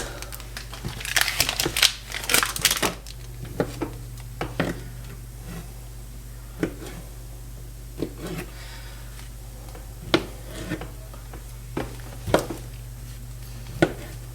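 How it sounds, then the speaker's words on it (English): A knife cuts through pre-cooked Polish kielbasa sausage on a cutting board. There are close, sharp chopping thuds at an irregular pace, with a denser burst of crunchy cutting near the start and a low steady hum underneath. "we're going to go ahead and open up and slice our Polish sausage, or our kielbasa sausage I should say"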